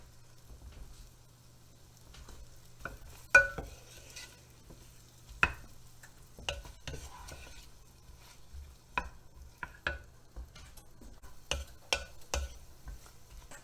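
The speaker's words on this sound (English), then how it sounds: "Now that should take about 5 minutes to saute." Keto chicken pot pie filling sautéing in a Pampered Chef RockCrok, with scattered sharp clacks of a utensil stirring against the pot over a faint steady hum, no talking.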